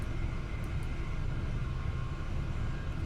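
Steady, loud rumble of an AP Class 387 electric multiple unit running at speed in Train Sim 2022, a continuous low roar with rolling noise and no pauses.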